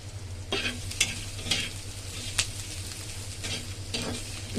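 Chopped onions fry in a pan and are stirred, making a quiet, continuous sizzle broken by several sharp scraping strokes of the spoon at a steady pace.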